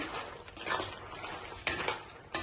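Fried gavvalu dough pieces stirred into hot sugar syrup in a pot, with soft metallic scraping and a few sharp clinks of the spoon against the pot, close and fairly quiet.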